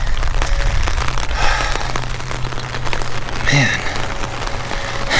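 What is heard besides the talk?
heavy rain falling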